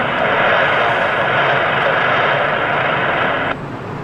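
A plane takes off from Lisbon Airport on a windy day with a loud, steady roar of engine noise that holds level, then drops slightly near the end.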